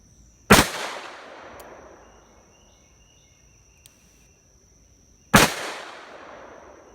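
Two sharp, loud gunshots from a Smith & Wesson 586 .357 Magnum revolver, fired one-handed at an outdoor range, about five seconds apart, each with a long ringing decay, with faint insect chirping between.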